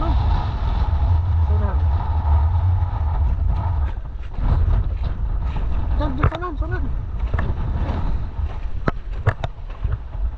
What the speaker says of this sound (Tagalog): Hangin lang yan, mga kalubo.